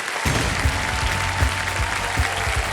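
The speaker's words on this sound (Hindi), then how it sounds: "मैं चाहता हूं कि जोरदार ताली के साथ इनका स्वागत किया जाए।" A studio audience on Kaun Banega Crorepati claps loudly in a thick, continuous burst of applause that starts abruptly and holds steady, with low thumps scattered through it.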